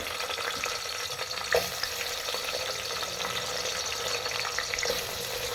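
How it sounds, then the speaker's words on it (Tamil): Onions frying in hot oil with cinnamon and cloves, an even, steady sizzle with a few faint stirring knocks, moderately quiet and close, no speech. "இப்போ வெங்காயம் சேர்த்துக்கலாம்"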